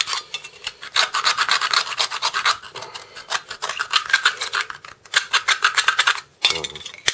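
Rapid, loud rasping scrubs from cleaning dirt off brake pad backing plates during a rear brake job on a Citroen C5 2.2 HDi, a steady run of back-and-forth strokes with brief pauses.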